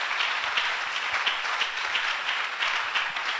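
Church congregation applauding, a dense steady wash of many hands clapping at once, sustained and fairly loud throughout with no talking.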